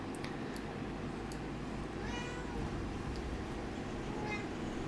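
A domestic cat meows twice, a short rising call followed a couple of seconds later by a softer one, both fairly faint over a steady background hum.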